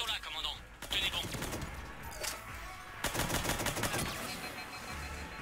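Rapid machine gun fire in the Mass Effect 3 video game, bursts of rattling shots with explosions and game effects, under intermittent talk.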